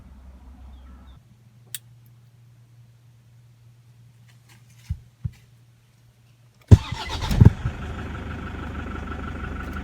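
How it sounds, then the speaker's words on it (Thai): A car engine cranks and catches after an oil change, bursting into a loud start near the end and settling into a steady idle, with a few faint knocks and a low hum beforehand. "เดี๋ยวเราสตาร์ทเครื่องนะครับ"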